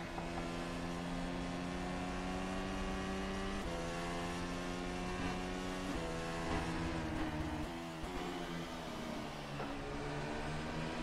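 An F1 2019 spec race car in rFactor 2 at Barcelona runs with a steady high engine whine. Its pitch holds, then steps through gear changes, near and constant, with no voices.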